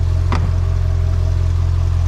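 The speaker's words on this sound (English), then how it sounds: "Ooh, that engine." A Chevrolet C8 Corvette engine idles loud and close with a steady low drone, broken by a brief sharp blip of revving near the start.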